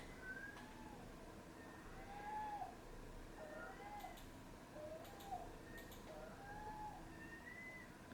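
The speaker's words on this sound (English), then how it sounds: "I think it's a seagull on the roof." Seagull calling from a roof: a series of faint, high, wavering cries spaced through the clip, heard indoors behind a steady low room hum.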